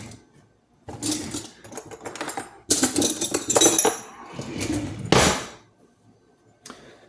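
A spoon stirring salt brine in a jar of pickles, producing bursts of clinking and scraping against the glass in several uneven bouts, close and fairly loud, with short quiet gaps between them.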